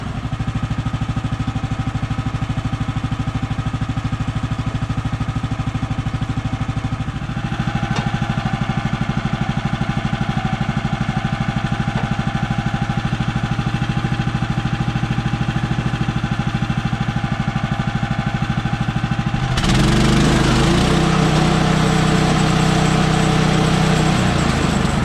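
Sawmill engine idling as it warms up after sitting for about a week and a half, a steady close drone that shifts pitch slightly partway through and then turns louder and rougher near the end.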